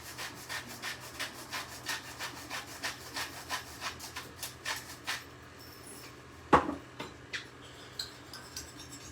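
Salt and black pepper seasoning being mixed in a bowl, heard as a steady run of soft, evenly spaced scraping strokes close by, with a sharper knock partway through.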